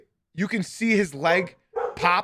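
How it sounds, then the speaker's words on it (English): Small dog barking close by in a few sharp, quick yaps between stretches of a man's speech, the barks overlapping his talking. "Sorry about my dog right now."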